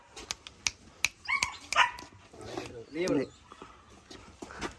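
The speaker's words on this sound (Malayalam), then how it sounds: "അസ്കി പട്ടിയാണ്" A Husky gives a few short, sharp barks and yips at close range, mixed with people talking nearby.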